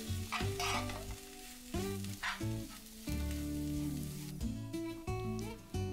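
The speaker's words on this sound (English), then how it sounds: "Add handful of chopped coriander leaves and mix for about 2 minutes." Samosa filling is stirred in a pan with chaat masala and chopped coriander. Soft sizzling and scraping come in repeated strokes at low volume, with no talking.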